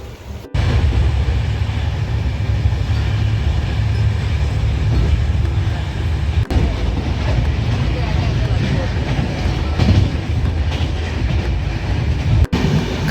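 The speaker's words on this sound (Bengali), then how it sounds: "ট্রেন ছেড়ে দিল, আমাদের জার্নি শুরু।" A passenger train heading toward Sikkim rolls along steadily from inside a carriage, a loud continuous rumble with faint rhythmic clatter, brief cuts, and voices murmuring underneath.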